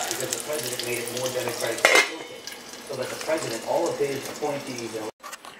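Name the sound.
pot lid lifted, chili stirred in pot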